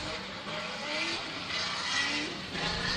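Formula Drift PRO2 cars on a Texas race track make a steady, broad roar of engines and tires throughout, heard from a distance with no clear talking.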